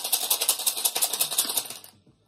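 Rapid clattering of small hard stones tumbling against each other in a rhythmic rattle, close by, stopping abruptly after about two seconds.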